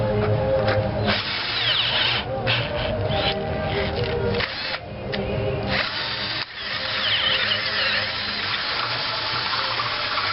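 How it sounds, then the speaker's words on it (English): A power drill bores a larger hole in metal for a steering tie rod end on a reverse trike build, whining loudly and steadily with short pauses and changes in pitch. "so I have to drill a larger hole"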